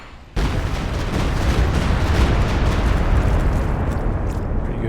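A Walking Stuka rocket barrage in Company of Heroes 2 erupts into a sustained, loud, rumbling roar of overlapping explosions that continues without pause.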